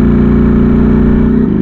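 Ducati Streetfighter V4S motorcycle engine revving hard and close, a loud, steady throbbing roar that holds for over a second before dropping slightly at the end.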